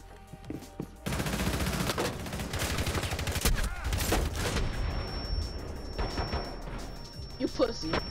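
Gunfire in the tactical shooter Rainbow Six Siege: loud, rapid automatic bursts run almost continuously for several seconds, then thin out into scattered shots, with players' voices talking over the action.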